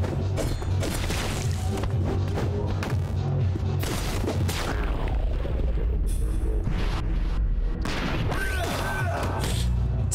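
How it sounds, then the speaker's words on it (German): Dense, loud bursts of gunfire and heavy impacts in the action game Katana Zero, sharp shots and crashes piling up continuously with barely any pause. "Zwei Schüsse gleichzeitig."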